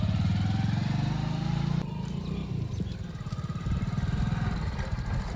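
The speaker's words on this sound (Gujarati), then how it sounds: "નવાઈનું બાઈક લાવ્યું છે ને?" A motorcycle-type engine runs steadily nearby, its low rhythmic chugging continuous throughout, dipping slightly midway as if easing off the throttle.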